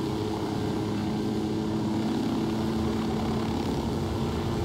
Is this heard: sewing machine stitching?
no